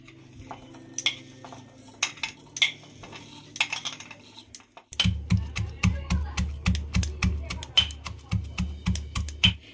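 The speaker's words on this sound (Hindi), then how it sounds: "मसाले के लिए हमें चाहिए लहसुन, जीरा, हरी मिर्च, अदरक, काली मिर्च और साबुत धनिया। इसे हमें कूट लेना है दरदरा" Garlic, cumin, green chili, ginger, black pepper and whole coriander being coarsely pounded: sparse, uneven knocks over a faint background voice, then a loud, steady run of close, rapid thuds, roughly two per second.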